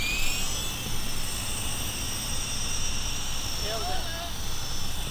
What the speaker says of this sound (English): There's helicopters.